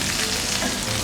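Fish fillet pan frying in hot fat until crispy, a steady dense sizzle and crackle filling the short moment close up, with no voices.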